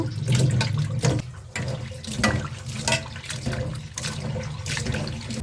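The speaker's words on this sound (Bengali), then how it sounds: "সয়াবিনটি গরম জল দিয়ে দিছি" Hot water pours over soybean chunks in a steady, splashy gush of liquid that runs continuously at close range with slight surges.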